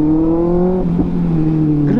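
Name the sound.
Kawasaki ZX-6R motorcycle revving with AR Shorty exhaust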